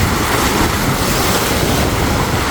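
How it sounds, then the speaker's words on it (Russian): Waves breaking on the shore of Lake Peipus, a loud, continuous wash of surf mixed with wind buffeting the microphone, with no voices. "подбираются волны, вообще даже стоять негде уже"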